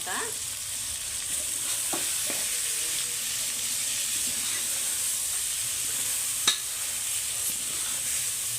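Mutton curry with chunks of brinjal sizzles steadily in a pan while being stirred, with a constant frying hiss and occasional soft scrapes of the spoon; no one speaks.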